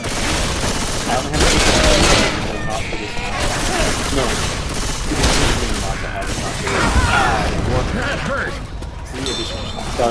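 Gunfire in the zombie shooter Left 4 Dead 2: a dense, continuous fusillade of rapid shots and booms running the whole time, loud and close, with players shouting over it.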